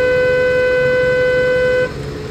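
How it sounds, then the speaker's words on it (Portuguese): A car horn sounds one long, loud, steady blast close by in road traffic, holding for nearly two seconds before cutting off abruptly. "Vai, buzina forte."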